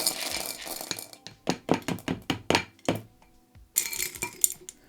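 LECA clay pebbles scooped and poured into a plant pot while repotting a monstera cutting, heard as a run of close, distinct hard rattling clinks in quick bursts, then a pause and a final loose clattering pour.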